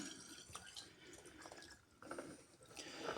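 Homemade vodka-based blackcurrant liqueur pours into a glass jar, a faint, soft trickling and splashing of liquid with small drips and gurgles, fairly close and continuous for a few seconds.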